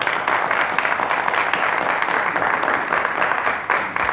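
Loud, dense applause from an audience at a community poetry gathering, a continuous wash of many hands clapping up close without a break.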